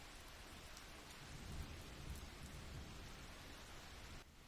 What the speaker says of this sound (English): Pouring down with rain